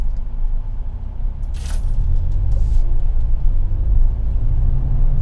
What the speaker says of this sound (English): I'll just put the car in drive and I'll see how this car performs